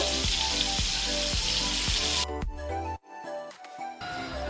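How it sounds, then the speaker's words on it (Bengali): Eggs fry in a pan with a loud, dense sizzle for about two seconds. It then drops to a quieter crackle broken by brief handling sounds, with no speech. "এইভাবে সব ডিমগুলোকে ভেজে নেব"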